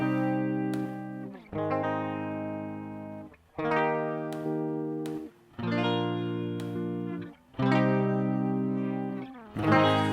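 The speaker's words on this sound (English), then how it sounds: "let's hear this other guitar" An electric guitar plays sustained, processed chords in a slow repeating pattern, each ringing out with a bright effected shimmer before the next strum.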